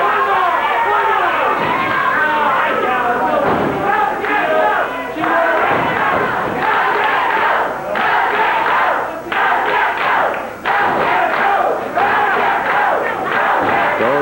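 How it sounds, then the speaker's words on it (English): Packed 1986 championship wrestling arena crowd chants rhythmically for Jeff Jarrett, a loud dense roar of repeated shouted chants with brief dips between bursts and scattered thuds, filling the whole stretch. "Go, Jeff, go, the crowd says"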